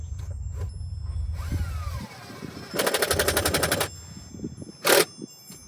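Bolts are tightened on a 1998 Dodge Ram 1500 with a power tool, heard as a rapid rattling burst of about a second among lighter mechanical clatter and a later short sharp whir.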